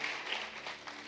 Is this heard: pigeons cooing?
no